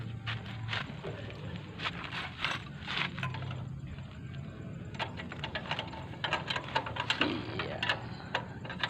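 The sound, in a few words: wrench turning the bolt and nut on a motorcycle gear set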